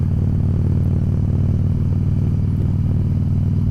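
A Harley motorcycle engine runs close and loud, a deep throbbing low rumble with a steady pulsing beat throughout, no talking.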